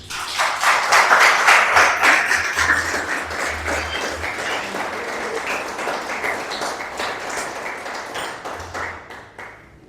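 A church congregation applauds together in a sustained, loud burst of clapping that gradually thins and fades toward the end, with no talk over it.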